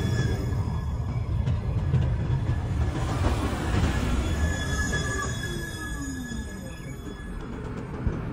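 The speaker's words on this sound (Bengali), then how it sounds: "আমাদের ট্রাম চলে আসছে। আমরা এখন ট্রামে উঠবো।" A tram approaches with a low rumbling roll and faint metallic wheel squeals rising and fading, heard from a nearby stop amid outdoor background noise.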